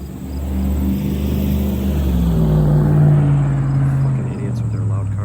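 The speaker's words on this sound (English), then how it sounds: "idiots with their loud cars" Loud cars passing on a nearby main road beside a forest garden, a swelling engine rumble and drone that rises and fades over several seconds, heard alone without talk.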